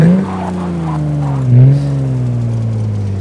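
A new Porsche race car with its exhaust flap open in a racing game drones loudly and steadily near the listener, its engine pitch dipping and rising slightly mid-run.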